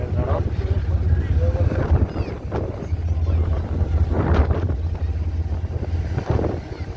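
Steady low engine rumble throughout, with wind buffeting and a few louder bursts, from the twin engines of a Ghogha to Hazira ro-ro ferry running close by.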